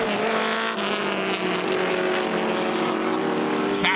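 A Lotus 23 race car engine roars steadily nearby at Mid-Ohio, a sustained high-revving drone with a brief rise near the end as it passes.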